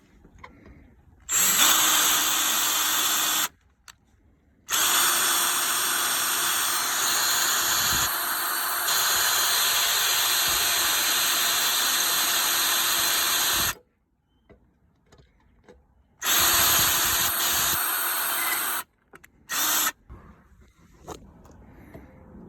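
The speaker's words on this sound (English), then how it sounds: "we're gonna drill a 332 pilot hole right here for the ground" A power drill bores a pilot hole for a ground wire into a Jeep Liberty, sounding as several long, steady whirring bursts with short silent gaps between them, close and loud.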